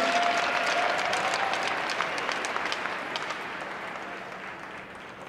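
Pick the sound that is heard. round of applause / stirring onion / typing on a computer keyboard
round of applause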